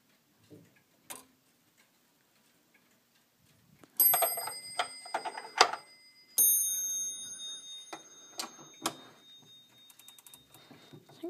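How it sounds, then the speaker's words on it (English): French Boulle clock, not running, sounding a series of chime and strike notes with ringing overtones after a few faint clicks, the struck tones close and fairly loud with long decays. "I'm gonna show you the chime of the French clock here in my collection."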